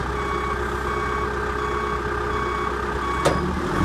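A John Deere 310G backhoe sounds steady reversing beeps over a constant idling engine hum, nearby, with a brief louder knock near the end.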